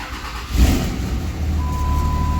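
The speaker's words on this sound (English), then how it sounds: "So I'm gonna put it neutral before I start it." A Cummins diesel pickup truck engine with loose injector tubes cranks and catches, then settles into a steady, loud, low diesel rumble up close, with no talking.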